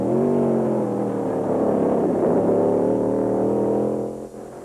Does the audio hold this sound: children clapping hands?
no